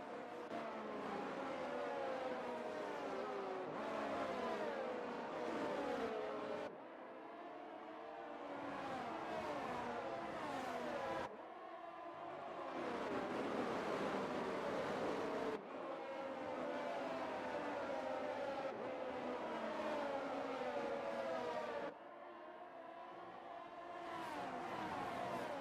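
F1 23 race cars lap Yas Marina under virtual safety car conditions, their engines holding a steady, moderate whine with repeated gear shifts and changes in pitch, and no voices over them.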